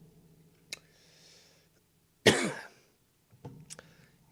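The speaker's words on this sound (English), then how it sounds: "Got a cough to get off," One person coughs hard at close range: a single harsh cough in the middle, with short throat-clearing sounds before and after in an otherwise quiet room.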